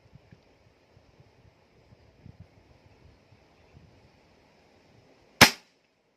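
A single sharp air rifle shot, fired with a 24.6 grain .218 slug, cracks out near the end after several seconds of quiet wind and faint rustling.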